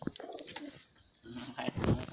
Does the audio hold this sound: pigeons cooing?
yes